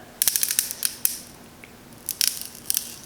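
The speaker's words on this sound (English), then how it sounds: "What that is the pipe cracking" Sharp, brittle crackles and snaps come in two short bursts of rapid ticks, close and fairly faint, with a quiet pause between them.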